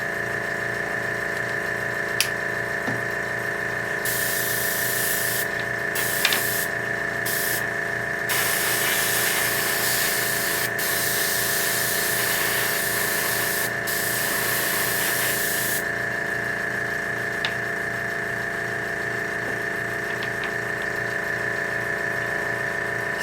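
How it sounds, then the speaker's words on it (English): An airbrush sprays paint onto a model defence wall in intermittent bursts of soft hiss over the steady hum of a running compressor, close up and continuous throughout. "when you are airbrushing"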